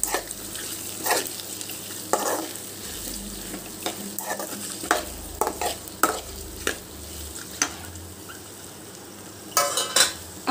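Egg and onion being stirred in a sizzling frying pan: steady frying hiss broken by repeated scraping strokes of a spoon against the pan, close and clear, with no talking.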